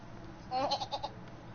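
A voice imitates a goat or sheep with a short wavering bleat, fairly close and brief, in an otherwise quiet room.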